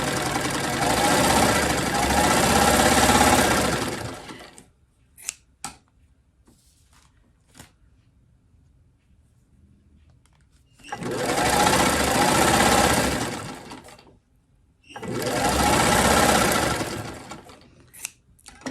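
A vintage sewing machine stitching a spider web string quilt runs in three bursts of steady close mechanical whirring, separated by quiet gaps with a few clicks.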